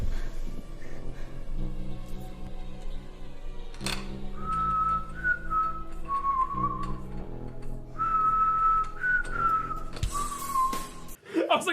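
A man whistles Deck the Halls in a movie scene, clear warbling phrases repeated over a low musical hum, with a few faint knocks and a short sharp burst at the end.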